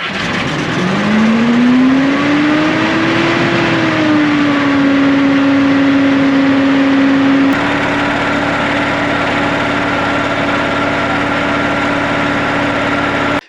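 A Star 660 truck that had likely sat unused for decades idles just after starting, its engine note rising then settling into a steady, loud, close drone that holds even and unbroken.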